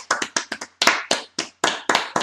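A small group of people clap their hands in short, uneven bursts with brief pauses between them, close and crisp, with no talk underneath.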